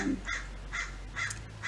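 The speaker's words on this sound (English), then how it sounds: "there's a crow crowing" A crow caws four times in a slow, evenly spaced series, moderately distant and fairly faint outdoors, with no talk over it.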